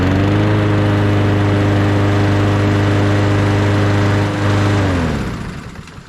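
A lawn mower engine fitted with a HIPA carburetor runs steadily at a loud, even idle with a strong low hum, then shuts off near the end and winds down into quiet.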